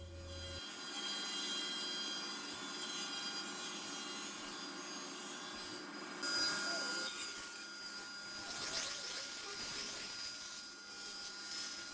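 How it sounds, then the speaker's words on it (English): Steady mechanical whine of a woodworking machine milling rough sawn hard maple boards, with rasping cutting noise swelling and shifting as the wood feeds through. "milling the rest of the hard maple for the face frame and doors."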